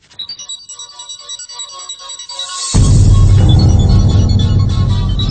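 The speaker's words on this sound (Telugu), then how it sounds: "శైలు ఫోనా?" A mobile phone ringtone plays a bright repeating melody, first as a light pulsing pattern and then swelling into a louder, fuller tune, close and clear with no talking.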